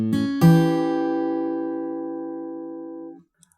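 Fingerstyle acoustic guitar in a 12-bar blues pattern: two plucked strings, then a chord that rings out loud and slowly decays over about three seconds before being damped.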